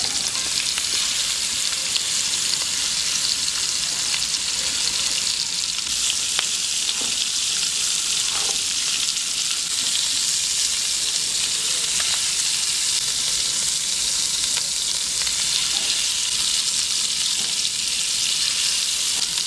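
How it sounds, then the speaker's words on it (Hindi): Chicken malai boti on skewers frying over a low flame in a frying pan, giving a steady, continuous oil sizzle and crackle with soft occasional pops, close up and with no talking. "10 मिनट के लिए इनको इसी तरह फ्राई पैन में पकाना है"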